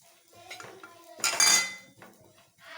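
Metal spoon scraping and clinking in a pan while raisins and dried coconut roast for dry-fruit laddu, a few close, bright clanks and scrapes with quieter stirring around them.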